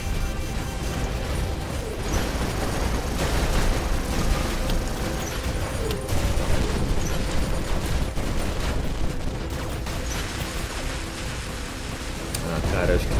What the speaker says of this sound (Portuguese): tanto tiro, cara.